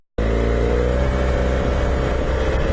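A vehicle engine with a badly slipping clutch on a demo ride, cutting in abruptly from silence into a loud, sustained revving roar that holds steady and close for several seconds, no voices over it.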